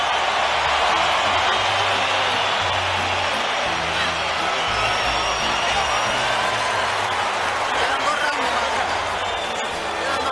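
Boxing crowd on its feet at a Canelo vs Golovkin fight, a steady loud roar of cheering filling the arena under a commentator's talk.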